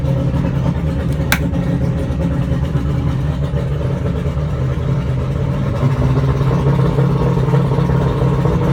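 Mercury 200hp outboard engine on a 1994 Robalo boat running steadily close by, a continuous low drone that holds fairly even with slight rises in revs and no talking.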